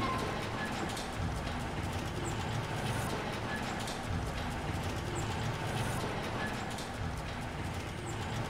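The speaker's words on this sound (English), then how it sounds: "Never-ending rain." Steady rain falls in the Resident Evil 2 Remake video game as a constant soft patter on surfaces, fairly faint and unbroken throughout.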